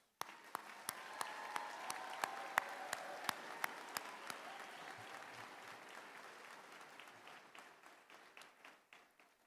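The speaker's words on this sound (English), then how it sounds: "Give them another round of applause" Sustained applause from a graduation audience at the Washington County Career & Technical Center ceremony, a dense wash of clapping with sharper individual claps early on, fading gradually toward the end.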